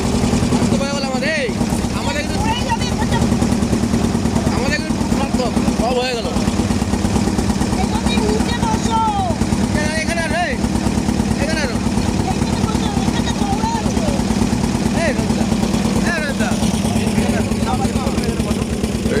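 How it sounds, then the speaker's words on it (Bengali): A motorboat engine drones steadily on the Ganges river near Bansberia, a constant low chugging hum heard from aboard, with people talking over it throughout. "ইমামবাড়া বোটে করে চলছি"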